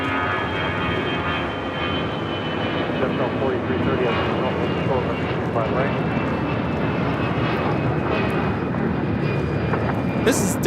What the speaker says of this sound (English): taking off to Houston Intercontinental on an A319